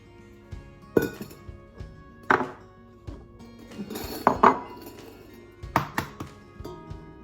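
Eggs are cracked into a mixing bowl with caster sugar, producing sharp clinks and knocks against the bowl spaced a second or so apart, close and clear over a quiet background.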